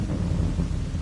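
Deep thunder sound effect rolling and rumbling at steady loudness, with low booming energy and faint rain-like hiss throughout, made by the person playing it.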